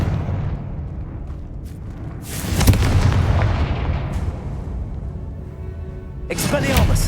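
A Confringo explosive spell in the Hogwarts Legacy video game bursts with a loud, heavy boom and rumbling blast, followed later by a second sharp burst, with game voices calling out around it.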